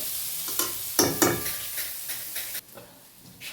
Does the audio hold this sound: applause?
no